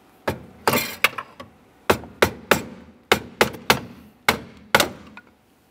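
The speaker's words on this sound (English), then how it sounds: "I'll give it a couple loving bonks with a pry bar and a hammer" A hammer and pry bar knock a steering shaft off the column of a 2001-2005 Ford Explorer Sport Trac: about a dozen sharp metallic bangs in uneven clusters, close and loud, each with a short ringing decay, no talking.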